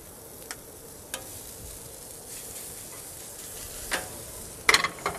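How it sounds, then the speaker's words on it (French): Skate wing searing on a plancha in olive oil gives a soft, steady sizzle, broken by a few quick clicks and taps of a utensil. A short cluster of sharper crackles comes near the end. "Je vais à peine les saisir à l'huile d'olive."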